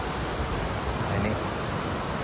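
A fast-flowing river near an abandoned village gives off a steady, dense rushing roar with no breaks, loud and close throughout.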